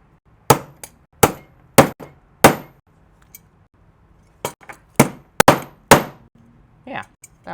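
A mini hammer knocks an electrical outlet into a wall box with about a dozen sharp metallic taps in two bursts separated by a short pause, loud and near.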